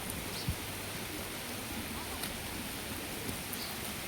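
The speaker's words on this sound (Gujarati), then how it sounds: "ધોધમાર" Heavy downpour falling steadily over farm fields, a dense continuous hiss of rain with a few faint brief knocks, no talking.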